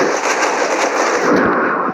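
Rapid, loud bursts of gunfire in the mobile shooter C-OPS, crackling shots packed closely together in a continuous volley for the whole short stretch, with no voices.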